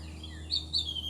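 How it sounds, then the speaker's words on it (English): Outdoor birds chirp and twitter in short, bright bursts over a steady low background hum during a quiet stretching session, with no voices. "the birds are so talkative today"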